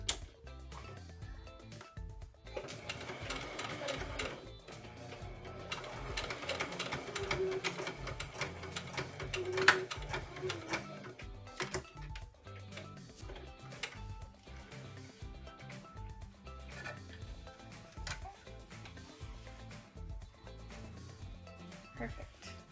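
Sewing machine stitching a lining to the main fabric, a steady mechanical rattle of needle strokes running under a person talking throughout.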